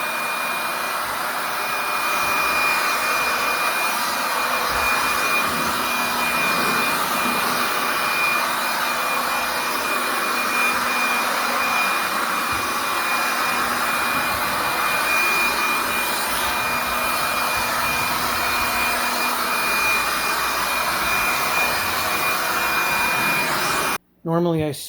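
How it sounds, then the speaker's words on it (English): A leaf blower rigged as a vacuum roars steadily and loud, sucking dust and dirt out of a crevice, with a high whine riding over the broadband rush until it cuts off abruptly near the end. "I just got a lot more dust and dirt out of here using the leaf blower"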